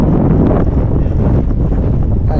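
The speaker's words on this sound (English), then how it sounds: "It's super windy." Strong gusting wind buffets the microphone during a recumbent bike ride, a loud continuous roar with no voices.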